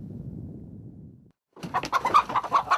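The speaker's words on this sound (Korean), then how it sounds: "닭을 잡을 모양인데" Chickens cluck inside a coop as a man steps in to catch one, several busy bird calls rising after a brief quiet stretch of low rustling.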